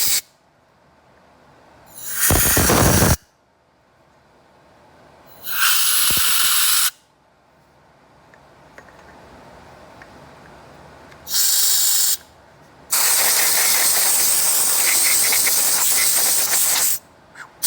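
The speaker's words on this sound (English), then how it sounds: "I'm using some electronic dust and line remover, lint remover." Aerosol electronic dust and lint remover sprayed in four separate close, loud hissing bursts, each lasting about one to four seconds, with the last one long and steady, used while rebuilding the throttle body injection on a 1994 GMC C3500 truck.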